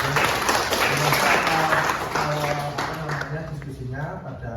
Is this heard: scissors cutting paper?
no